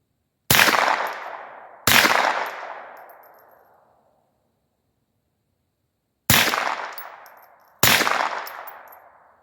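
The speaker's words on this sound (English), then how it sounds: "Let's take some shots over there." Rifle shots fired at targets 110 yards away through a Primary Arms 1-10x28 LPVO setup: four sharp, loud reports with ringing decays, two close together, a pause, then two more.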